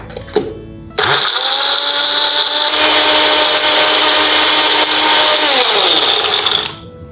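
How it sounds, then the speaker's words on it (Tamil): A mixer grinder whirs loudly at high speed for about six seconds as it grinds soaked karuvelam gum with sugar candy, starting abruptly and winding down at the end, with no talk over it. "கற்கண்டு சேர்த்து அரைச்சிடலாம்."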